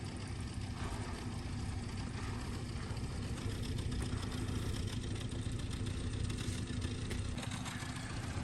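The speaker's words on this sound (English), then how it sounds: "It's been idling for quite some time now." A 1977 Toyota Hilux engine, recently revived after sitting abandoned for 20 years, idles in an even, continuous rumble with a slight hiss, steady and fairly close, no voices.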